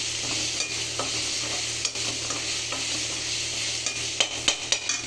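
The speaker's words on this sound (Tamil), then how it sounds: "இஞ்சி பூண்டு பச்சை வாசனை போகிற அளவுக்கு நல்லா வதக்கிறோம்" Ginger and garlic sauté in hot oil in a pan with a constant sizzle, while a spoon stirs and taps the pan in scattered scrapes that thicken toward the end. A low steady hum runs beneath.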